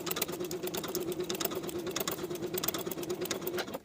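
A sewing machine bastes the bottom edges of knit fabric pieces for a V-neck top, running in one steady, continuous close whirring stitch rhythm before stopping abruptly at the end.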